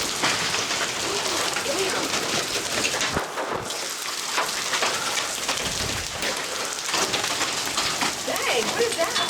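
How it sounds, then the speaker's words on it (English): Large hailstones pound down hard and steadily during a 2006 hail storm in Hudson Bend, Texas, a dense, continuous clatter with scattered louder impacts and people talking over it. "That's hail. That's big hail."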